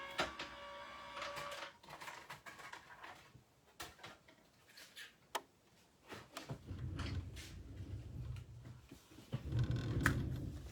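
An electronic die-cutting machine runs a card-making shape through, with intermittent motor whirs, soft mechanical clicks and rolling rumbles at close range, fairly quiet overall.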